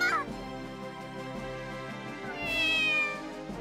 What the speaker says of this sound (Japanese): ヒデオ様、前方に子猫が。